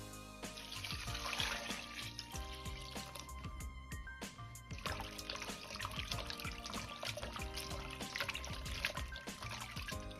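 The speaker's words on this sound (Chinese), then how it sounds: "接着倒入多一些的清水，再慢慢的清洗干净" Shiitake mushrooms being rinsed and washed by hand in a bowl of water, with close splashing, sloshing and dripping sounds in an irregular rhythm, no voices.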